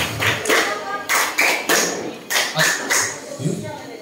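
A hand taps steadily on a surface, about eight distinct, fairly close knocks spaced in an uneven rhythm over a few seconds, with a voice speaking in the background.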